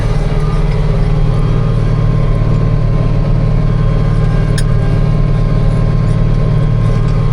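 A loud tractor engine drones steadily and close while tilling a wet field to finish soil for a new alfalfa seeding, a constant heavy rumble with no talk.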